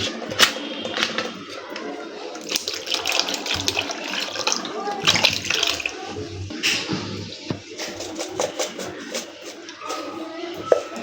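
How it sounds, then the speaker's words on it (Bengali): Soda water is poured into a raw and ripe mango juice, fizzing and splashing in uneven bursts close by, while a person talks over it. "অ্যাড করলাম হচ্ছে সোডা পানি"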